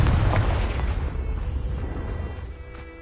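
A Bombarda or Confringo explosive spell bursts in Hogwarts Legacy, a heavy booming blast already underway that rolls off into a fading rumble with faint crackles.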